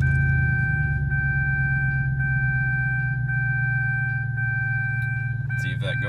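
Steady engine and road drone heard from inside the cab of a 2000-2007 Chevrolet Tahoe pulling away on a test drive after wheel speed sensor cleaning, loud and constant, with a faint chime tone and a brief rattle near the end.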